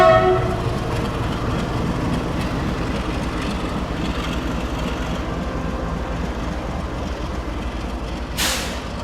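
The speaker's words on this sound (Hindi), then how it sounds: "यहाँ पर काठगोदाम गरीब रथ खड़ी हुई है अभी भी" The Kathgodam Garib Rath train stands at Kanpur Central station, with a steady low rumble of idling rail equipment and platform bustle throughout and a brief hiss of air near the end.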